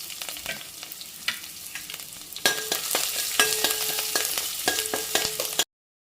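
Shallots, dried red chillies and curry leaves crackle in hot oil, a thin sizzle that jumps louder once they hit the pan, with sharp spatula clicks and pops scattered throughout; no talking.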